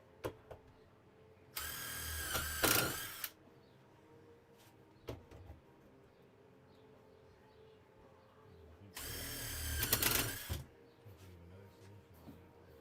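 Two long bursts of a power drill whirring, each lasting a couple of seconds, close by, separated by a quiet stretch with faint knocks.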